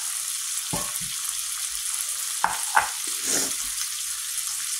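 Sofrito sizzling in a frying pan for stewed chicken makes a constant soft hiss, with a few low thumps and scrapes of stirring scattered through, heard alone.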